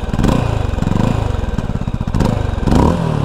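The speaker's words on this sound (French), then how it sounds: "c'est un bruit de mono, quoi" A Mash X-R single-cylinder motorcycle engine revs close by in short pulsing bursts, its throbbing note rising and falling twice over a few seconds.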